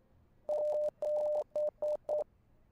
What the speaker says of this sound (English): We just got Morse coded